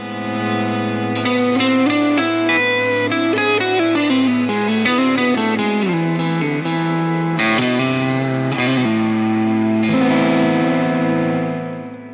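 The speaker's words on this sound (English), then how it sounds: "We have a new reverb called Reverse Nebula." Electric guitar played through the Reverse Nebula reverb on a Fender Tone Master Pro, a flowing melodic line with swelling, washy tails, loud and unbroken, no voices.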